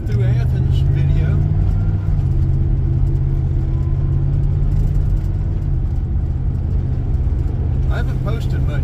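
Car cruising through Athens, Georgia, on a Sunday morning, with a steady loud engine and road rumble heard from inside the cabin, droning evenly throughout.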